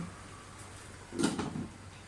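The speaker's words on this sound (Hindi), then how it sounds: "इसको ढक के रख दें।" A lid goes onto a pot of moong dal with added water: one short clatter and scrape of metal, fairly close, against a quiet kitchen background.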